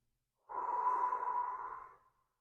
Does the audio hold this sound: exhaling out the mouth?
yes